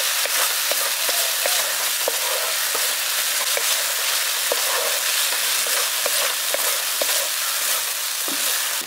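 Cashew and poppy seed paste frying in a pan for village-style malai paneer, a constant bright sizzle with light irregular taps and scrapes from stirring throughout.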